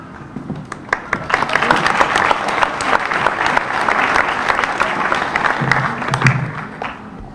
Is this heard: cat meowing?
no